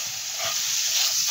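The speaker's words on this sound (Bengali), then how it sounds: "খুব আস্তে আস্তে এর মধ্যে আমি দুধটা দেব।" Milk trickles slowly into flour in a hot pan, giving a close, steady steamy hiss and sizzle that swells slightly over a brief moment, with faint stirring underneath.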